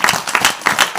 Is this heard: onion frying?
no